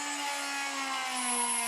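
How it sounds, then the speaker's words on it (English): A small rotary drill, a Proxxon Micromot fitted with a small bit, bores a hole in metal for a model steam engine's cylinder drain, giving a steady high-pitched whine with a faint rising tone, close and continuous, with no voices. "I'm drilling the hole first with the small drill bit"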